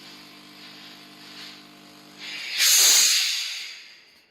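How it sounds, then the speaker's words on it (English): A high-power steam iron pressing a business shirt on an ironing board gives a steady soft hiss, then swells into a loud, bright burst of steam that tails off over a second or so. "it's a really high power steam, so I'll try not to speak over the top of it"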